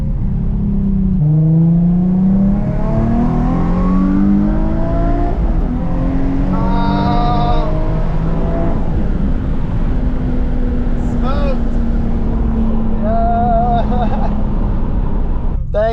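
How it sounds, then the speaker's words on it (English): A Subaru racing another car accelerates hard with a loud, close engine roar whose pitch rises through gears and repeated shifts, under steady wind and road noise. People talk over it. "I'm gonna try and race this Subaru right now."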